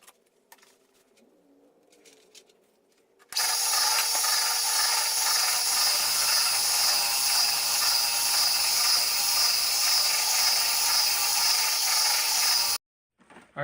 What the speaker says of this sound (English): I am taking this oscillating rotary sander, and we're going to be working on those knots.